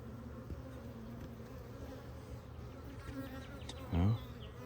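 Honey bees buzz steadily around an open hive with freshly drawn comb, a dense close drone throughout, with a louder bee passing right by near the end.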